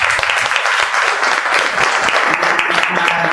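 Loud, dense applause from an audience at the opening of a photography exhibition on COVID-19 divides, steady clapping filling the room throughout with no voices standing out.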